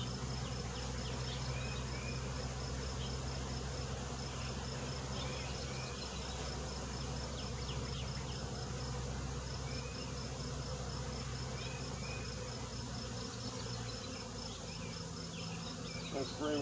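Honey bees drone steadily at an open hive during a brood inspection, a dense continuous buzz close and loud with no break and no talking throughout.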